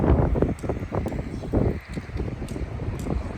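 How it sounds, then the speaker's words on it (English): Outdoor breeze rushes across the microphone near a light rail site in Westmead, a steady low buffeting roar that swells and dips continuously throughout. "It is a little bit breezy."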